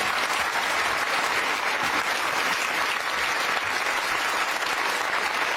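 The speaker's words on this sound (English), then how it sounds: "Give them a round of applause." Steady, dense studio audience applause from a daytime TV talk show, loud and sustained throughout with no voices over it.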